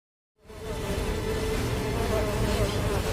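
A dense swarm of black flies drones in a steady, close buzzing hum that starts abruptly and holds level, filling the scene with no voices.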